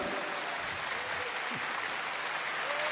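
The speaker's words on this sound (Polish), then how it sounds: "zróbcie duże brawa, a będą to w Netflixie oglądali" Festival crowd at Pol'and'Rock 2021 applauding on cue: a broad, continuous roar of clapping and crowd noise, fairly loud and even from start to finish.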